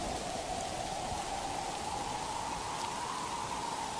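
Heavy storm rain pours in a cartoon, a constant, even hiss of downpour that continues alone with no voices.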